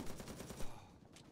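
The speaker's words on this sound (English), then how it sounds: "the guy's shooting through there" Enemy gunfire in the video game XIII, a burst of rapid automatic shots in quick succession, fairly faint and distant, followed by a lone shot.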